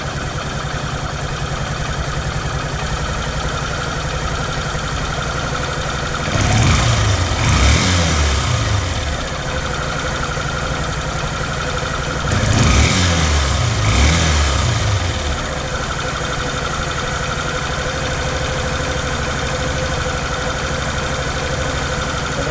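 A Honda CB125E motorcycle engine idles steadily after a carburetor service, with a close, constant mechanical hum broken by two short throttle blips partway through, and no talk.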